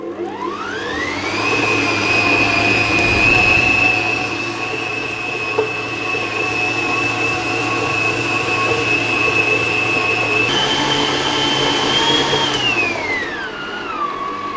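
A stand mixer kneads bread dough at medium speed for a garlic, onion and cheese bloomer loaf, giving a loud, steady motor whine that holds constant, then shifts pitch near the end and winds down.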